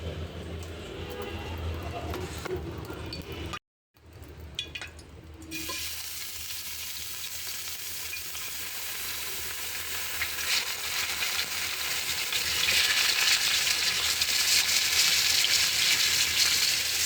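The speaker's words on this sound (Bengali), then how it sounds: "মাছটা ভাজা শেষ, নামিয়ে রাখি।" Koi fish frying in oil in a pan, a steady broad sizzle and crackle that drops out briefly early on, then returns and grows louder and denser toward the end, with faint talk in places.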